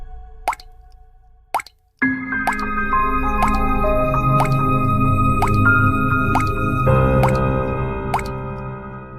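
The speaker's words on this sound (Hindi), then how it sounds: "चिड़िया लगातार पत्थर डालती रही और उसने एक एक करके सारे पत्थर उस घड़े में डाल दिए।" Cartoon stones dropped one at a time into a clay water pot make crisp watery plops. The plops come roughly once a second over sustained musical tones.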